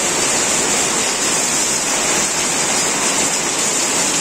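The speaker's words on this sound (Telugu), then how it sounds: "చూసారా వర్షం" Steady, dense roar of heavy rain pouring continuously, loud and close, with no voices.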